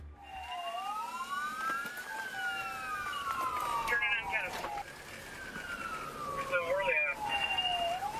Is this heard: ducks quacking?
no